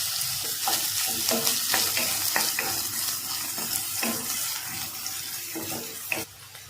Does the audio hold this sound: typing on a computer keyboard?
no